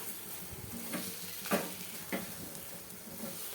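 Raw papaya fries in oil in a pan on a village kitchen fire, a quiet continuous sizzle with a few distinct spatula scrapes spaced irregularly, close by.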